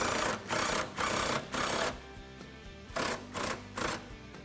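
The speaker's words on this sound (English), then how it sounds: "And now we're going to tighten it up until the subframe touches the frame again." Rapid mechanical ratcheting as a bolt is tightened on an S550 Ford Mustang subframe cradle, in several short bursts with brief pauses, fairly close and moderately loud.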